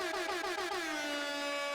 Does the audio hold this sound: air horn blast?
yes